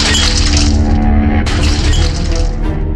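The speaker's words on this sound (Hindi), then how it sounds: "जब दोनों फ्रेम जमीन पर गिरे और कांच टूटने की आवाज आई" Two picture frames thrown from a window land on the ground two storeys below and their glass shatters, a loud, sustained crashing and splintering that fills the moment without any voices.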